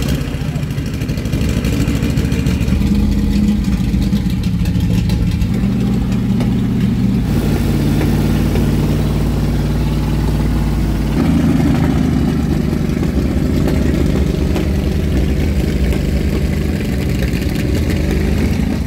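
A Turismo Carretera race car's engine runs loudly and steadily up close in Los Angeles, with a deep rumbling drone that holds throughout and shifts slightly in pitch partway through.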